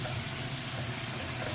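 Sauce pours back onto fried salmon with a steady, continuous liquid rush. It sounds close and fairly quiet and runs unbroken, with no talk.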